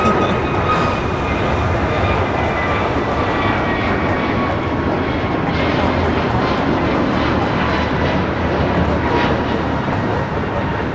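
American Airlines Airbus A321neo taking off at Los Angeles LAX, bound for Chicago, with a loud, steady jet engine roar and whine sustained throughout, no talking.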